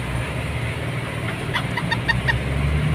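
Chickens cluck in short bursts over steady outdoor background noise, a few quick calls close together near the middle and end.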